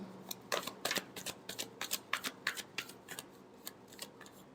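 Tarot cards riffled and shuffled by hand in a rapid run of crisp papery flicks and snaps, close and fairly quiet, with no talking.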